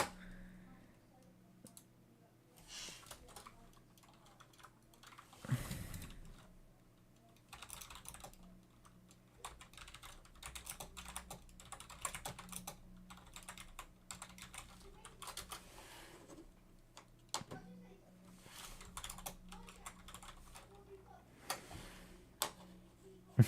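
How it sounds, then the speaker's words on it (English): Fast, irregular clatter of keys on a computer keyboard, close and fairly quiet, running in bursts throughout with a low steady hum underneath. "Typing."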